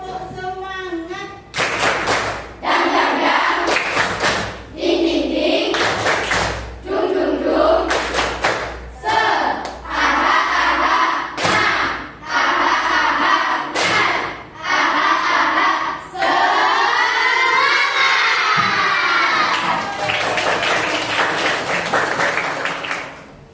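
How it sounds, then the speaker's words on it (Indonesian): Classroom of pupils doing a rhythmic spirit clap, loud group claps in quick patterned bursts mixed with shouted chanting voices, ending in a long cheer. "Tepuk semangat."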